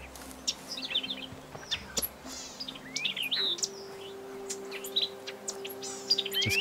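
Birds chirp and tweet in scattered bright calls across the ambient soundscape of the feudal Japan video game Sengoku Dynasty, set over a low sustained musical drone.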